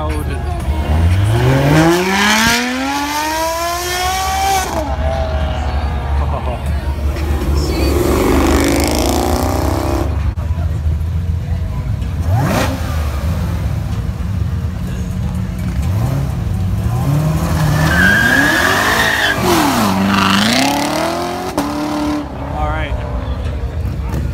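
A loud sports car engine, a Lamborghini Aventador, revs and roars continuously, pitch sweeping up and down through gear changes, with people talking and shouting over it nearby.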